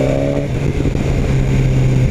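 A BMW S1000 R motorcycle accelerating hard on a test ride, its quick shifter clicking through an upshift: a loud, close, buzzing engine note that dips briefly at the gear change, then pulls on strongly.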